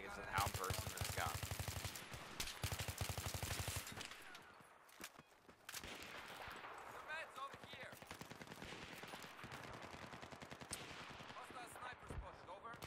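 Rapid automatic bursts of M416 rifle fire in Battlefield 3, sharp repeated shots in clusters with short pauses, with a voice talking over parts of the action.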